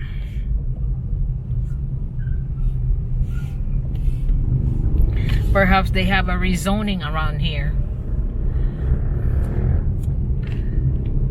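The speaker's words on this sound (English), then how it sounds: "So there's a big traffic here" Steady road traffic rumble fills a busy city street in Cebu, Philippines, a continuous low engine drone throughout with someone talking over it midway.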